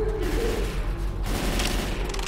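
Rapid gunfire in the zombie shooter Left 4 Dead 2, dense continuous automatic bursts crackling loud and close for the whole stretch.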